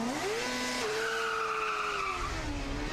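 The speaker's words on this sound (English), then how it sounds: "83 South Florida going off on their Autocross run" University of South Florida's car #83, a Formula SAE internal-combustion race car on an autocross run, gives a loud, continuous high-revving engine whine that climbs, holds and dips as it works through the course.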